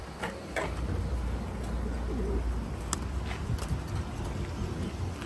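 A pigeon coos softly a few times amid constant outdoor wind noise and occasional knocks, with no talking.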